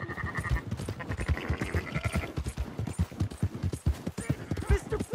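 A horse gallops in Red Dead Redemption 2, its hooves beating a quick, steady clip-clop close by while voices shout and talk over it.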